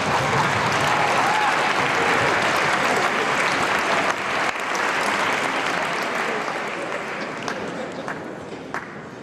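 Sustained, dense applause from a gala audience at a Cinema for Peace charity event, loud and steady for the full stretch and tapering slightly toward the end, with faint voices mixed in.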